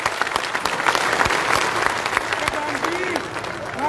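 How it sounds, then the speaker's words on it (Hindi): A crowd at a political welcome rally for a BJP candidate in Malkheda claps loudly and steadily, with scattered voices and shouts rising near the end. "प्रधानमंत्री के लिए जोरदार तालियां"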